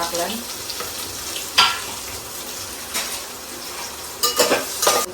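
Onions, crushed garlic and whole garam masala sizzling in a pan, a steady close frying hiss with occasional stirring scrapes and clinks of a utensil against the pan.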